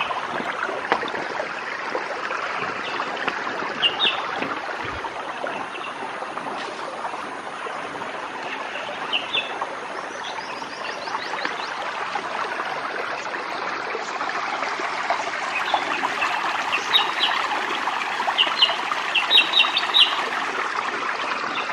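Steady broadband rush of a low-flowing forest river, dense jungle around, with scattered bird chirps and calls over the water throughout.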